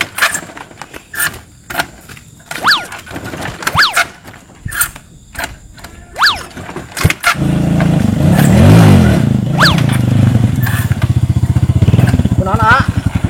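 A motorcycle engine starts up and idles loudly and steadily, preceded by clicks and rattles, with voices calling out in the background.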